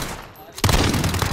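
Gunfire in a Search and Destroy match of a video game, a sudden loud burst of rapid shots starting after a short quiet moment and continuing dense to the end.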